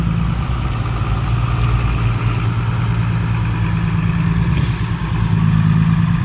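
A farm tractor engine runs steadily while driving on a rough track, a loud continuous low rumble with a faint hiss, close by and with no voices.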